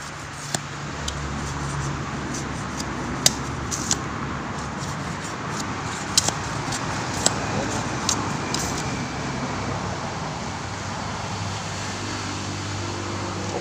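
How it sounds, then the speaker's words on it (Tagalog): Traffic passes on a roadside bypass road about nine metres wide: a steady, moderate wash of road noise from passing vehicles, with occasional sharp clicks and knocks nearby. "kaya maraming dumadaan sasakyan"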